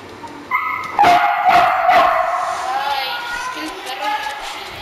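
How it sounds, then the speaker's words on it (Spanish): A dog whines and whimpers close by in a series of drawn-out, rising tones that run for several seconds, with brief yips at the onset. "Mi perro está chillando como siempre."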